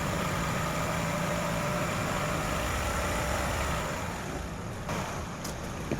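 A Chevrolet Aveo engine hums steadily at a raised idle of about 1,500 rpm, a continuous low drone with faint clicks near the end.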